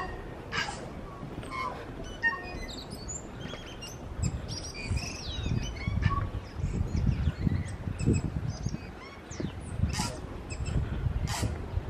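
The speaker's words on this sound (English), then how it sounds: "you can hear the sound of our many native birds" Native birds sing in the forest at Waitangi Treaty Grounds, with scattered high chirps and tweets over a low rumbling background and soft, indistinct voices.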